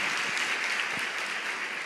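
Church congregation applauding, dense sustained clapping from a large crowd filling the room at an even level, with a few low thumps underneath.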